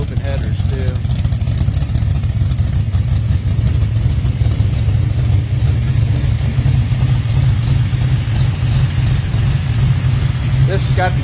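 A Pontiac 400 stroker engine with a hydraulic roller cam and roller lifters idles through mufflers, a loud steady low rumble with a slightly lopey pulse throughout, close and continuous.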